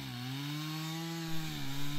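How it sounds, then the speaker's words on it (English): A chainsaw cuts through wood while a driveway is being widened. The engine drones loud and close at a steady pitch, dipping slightly as it bites into the wood and then rising again. "this is actually the first time I've ever used a chainsaw"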